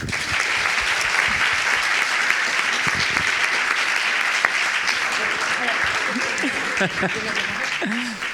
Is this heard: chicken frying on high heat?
no